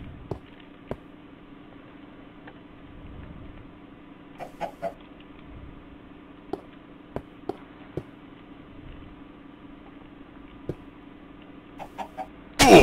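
A Minecraft chicken clucks in short, scattered clicks and soft calls at a quiet, even level, sparse and irregular over a faint steady background, with no talk.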